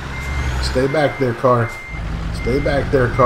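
A reversing truck in American Truck Simulator gives out loud, regular electronic beeps in two bursts over a low engine hum, while someone talks over them.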